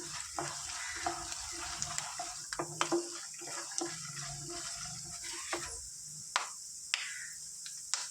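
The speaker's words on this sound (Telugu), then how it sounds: "ఒక వన్ స్పూన్ జీరా వీటిని చక్కగా ఫ్రై చేసుకుందాం" One spoon of cumin seeds fries in a pan, giving a faint crackling sizzle broken by scattered soft pops and stirring scrapes, with no talking.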